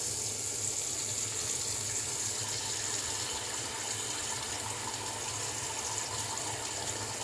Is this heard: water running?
yes